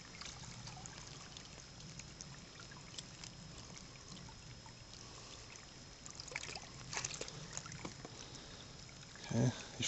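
Water pours and trickles steadily into a Sawyer filter's squeeze bottle, a soft close gurgle that swells briefly near the end.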